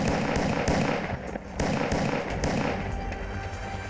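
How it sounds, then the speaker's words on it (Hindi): Gunfire erupts in a crime drama shootout at a roadside dhaba, with dense, rapid cracks and thuds stacking up over a steady rumbling background for several seconds. "इन तीनों ने सडनली फायरिंग शुरू कर दी।"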